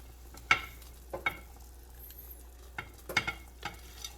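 Chopped vegetables are dumped one-handed into a pot of hot and sour soup, giving several separate close splashes and clatters over a quiet background.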